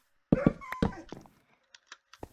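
A dog in Minecraft whines and whimpers in a few close, loud bursts, followed by quieter short yips trailing off.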